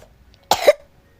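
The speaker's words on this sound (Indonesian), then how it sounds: "Maaf ya kalau aku ketawa sih, tapi aku batok mulu." A person coughs close by in a quick burst of two sharp coughs, with quiet before and after and no talking.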